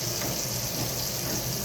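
Turkey wings are rinsed under running tap water in a sink, making a steady, close hiss and splash that never breaks.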